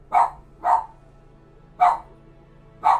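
A pet dog barks four times indoors, sharp separate woofs in two pairs, fairly close and loud over a faint steady background hum.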